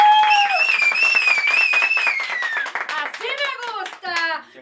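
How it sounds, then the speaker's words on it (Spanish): Studio audience claps on a morning television show, rapid clapping running under loud excited voices and cheering, with people talking over it throughout. "Aplausos."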